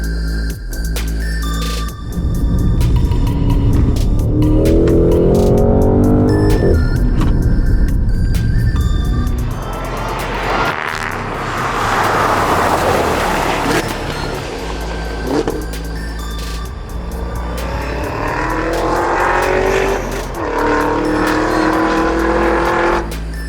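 A 2025 Cadillac CT5-V Blackwing V8 sedan with a manual gearbox driving hard on a race track: loud, sustained engine roar with repeated rising revs and gear changes, close up and continuous, with no talk.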